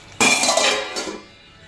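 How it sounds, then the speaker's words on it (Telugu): A lid is set onto a pot of cooking mutton munakkada curry: a sharp metallic clank, then a second lighter clink about a second later, with brief ringing and quiet between them. "మూత పెట్టేస్తాను"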